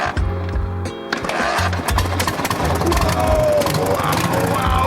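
A restored old motorcycle's engine runs close by with a rapid, uneven putter after starting up, loud and steady with mechanical clatter, while a voice speaks faintly underneath.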